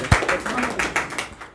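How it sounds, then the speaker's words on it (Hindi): Clapping from a small group at a classroom gathering, a handful of loose, uneven claps in quick succession, close and moderately loud, fading after a second or so. "आपसे ताली बजा देंगे।"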